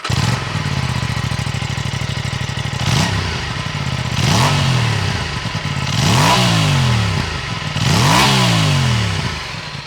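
Aprilia RS 457 parallel-twin motorcycle with a 270-degree crank, idling close up with a throbbing mechanical beat, then blipped through four quick revs that rise and fall, loud and alone.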